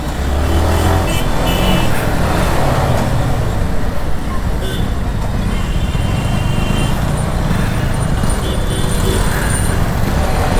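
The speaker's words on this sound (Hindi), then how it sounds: "आगे ट्रैफिक है इसलिए हम लोग थोड़ा स्लो कर रहे हैं, तो ट्रैफिक में निकल भी नहीं पाते हैं" Dense road traffic passing while riding a Yamaha R15 motorcycle, a continuous roar of car, bus and engine noise with wind rush, loud and steady throughout.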